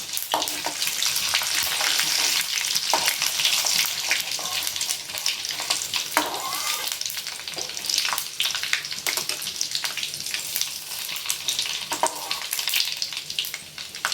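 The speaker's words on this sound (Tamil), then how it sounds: "எண்ணெய் காய்ஞ்சிட்டு இப்போது கடுகு உளுத்தம்பருப்பு சீரகம் காஞ்ச மிளகாய் எல்லாம் போட்டு கடுகு பொரிஞ்சதும்" Mustard seeds, urad dal, cumin and dried chillies frying in hot oil for a Tamil paruppu thakkali sadam, a steady close sizzle with crackling pops and occasional stirring scrapes.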